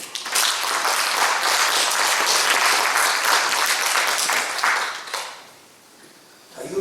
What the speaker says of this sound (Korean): 우리 주님께 박수 한번 보내주세요